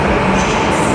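A train pulling into a platform at Wrocław station, a steady loud rumble of rail cars and wheels filling the whole moment with no pause.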